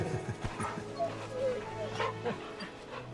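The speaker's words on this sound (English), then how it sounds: "I mean a dog." A dog in the Final Fantasy XVI video game gives short yips and whimpering barks in quick succession, close and moderately loud, over a steady game soundtrack hum while a person talks.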